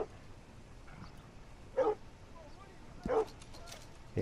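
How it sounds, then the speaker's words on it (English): A dog in the video game Red Dead Redemption 2 gives three short, sharp barks or yips spaced about a second apart, faint and distant over a quiet night wilderness backdrop. "what the hell is wrong with that dog?"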